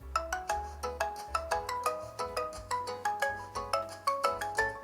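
The default ringtone of a Xiaomi POCO X7 Pro Iron Man Edition phone: a cheerful, plucky melody repeating in quick rhythmic notes, clear and up close, with no talking.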